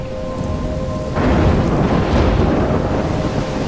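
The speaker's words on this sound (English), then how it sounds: "I'm trapped in a storm?" Heavy rain and rumbling thunder from a storm in the video game Life Is Strange, steady and loud throughout, swelling into a stronger roar after about a second, with no voices.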